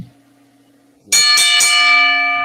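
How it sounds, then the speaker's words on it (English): A metal bell is struck several times in quick succession, then its bright, ringing tone sustains and slowly fades; close and loud. "Let's hit the bell."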